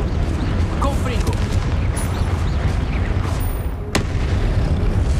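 Blasts from the Confringo spell in Hogwarts Legacy, heavy booming rumbles layered with combat noise, ending in one sharp, loud crack near the end.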